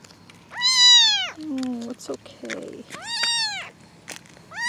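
A tiny foster kitten gives two loud, high meows with a quieter squeaky cry between them, close by, while a person speaks soothingly.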